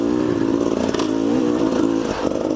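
A Beta Xtrainer dirt bike engine runs in third gear on a dirt track, a loud, close, steady buzzing drone with slight rises in pitch and faint clatter, no voices.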